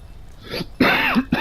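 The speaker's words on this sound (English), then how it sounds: "Got a bit of a bad chest today, so I might cough a bit" A man with a bad chest clears his throat and gives a few short, harsh coughs, close and loud, in quick succession over about a second and a half.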